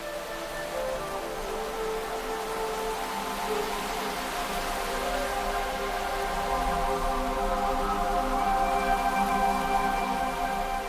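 Steady rain hissing without pause, with sustained tonal music playing over it throughout.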